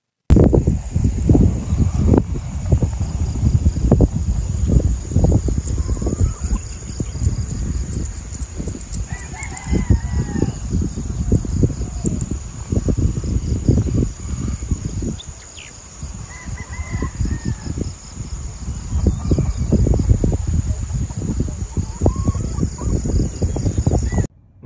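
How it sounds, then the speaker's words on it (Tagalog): Birds call and chirp in an outdoor setting, with occasional fowl-like honks and crowing over a steady low rumble of ambient noise. "Rinig ang mga huni ng ibon sa malaberdeng yaman ng kalikasan."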